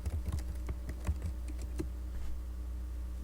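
A password goes in on a computer keyboard as a quick run of close, light key clicks, dense at first and thinning out, over a low steady hum.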